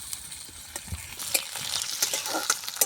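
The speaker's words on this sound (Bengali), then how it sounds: "আদা রসুন বাটা দিয়ে পেঁয়াজের সঙ্গে একটু ভালো করে নাড়াচাড়া করে নেব" Ginger-garlic paste and onions are stirred and fried together in a pan for chicken bhapa, giving a soft close sizzle with repeated light scraping taps from the spatula.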